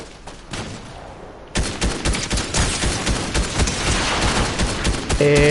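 Rapid bursts of gunfire and machine-gun fire erupt in a PS4 shooter game, a quieter opening giving way to a loud, dense fusillade of overlapping shots that continues to the end.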